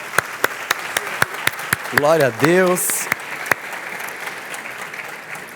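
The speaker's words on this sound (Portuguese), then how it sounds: "Vamos dar uma forte salva de palmas ao Senhor." Sharp, evenly spaced hand claps from a church congregation tick along in a steady rhythm, fairly sparse and distinct, while a man briefly calls out in the middle.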